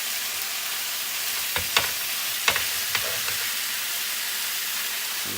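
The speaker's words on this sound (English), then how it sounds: "just putting the roast beef down real quick and kind of spreading it out" Roast beef slices searing in a dry pan, a constant close sizzling hiss broken by a few sharp scrapes and clicks from tongs spreading the meat.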